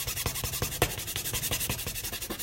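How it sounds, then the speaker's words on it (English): A hand file rasps across a rough edge in quick, steady back-and-forth strokes, close and alone with no talking. "just using our handy dandy file because we own one"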